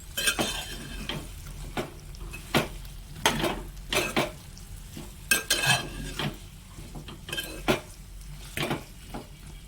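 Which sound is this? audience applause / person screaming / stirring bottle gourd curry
stirring bottle gourd curry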